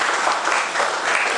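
A church congregation breaks into steady, dense applause that fills the whole moment, loud and close with no pauses.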